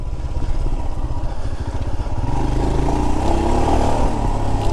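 A Royal Enfield Himalayan motorcycle rides off-road, its engine giving a steady, loud, rumbling thrum that climbs slightly in pitch as it accelerates, with some clatter mixed in.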